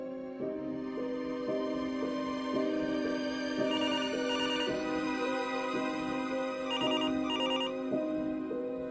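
A telephone rings repeatedly as gendarmes dial a young woman's number, a steady electronic ringtone pattern with short bursts of higher chiming, loud and continuous with no voices.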